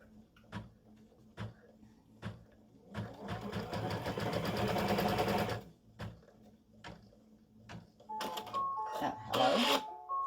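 An embroidery machine stitches down the batting on an in-the-hoop Thanksgiving gnome mug rug. It gives a dense mechanical whir for a few seconds between clicks and thumps, with a brief beep near the end.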